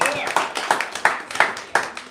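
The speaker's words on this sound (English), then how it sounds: "give her a big round of applause" A few people clap for an artist's guest at a live gathering, several distinct close claps in a loose rhythm, with voices underneath.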